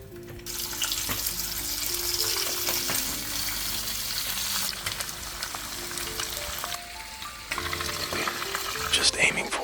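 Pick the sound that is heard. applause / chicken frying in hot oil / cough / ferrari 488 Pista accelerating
chicken frying in hot oil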